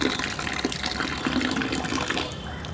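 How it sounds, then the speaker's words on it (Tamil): Water gushes steadily from a water heater outlet, a continuous splashing flow that is close and fairly loud. "இது மாதிரி தண்ணி அவுட்லெட் வழியாக வெளியே வந்தேன்னா டேப்பை க்ளோஸ் பண்ணிடுங்க."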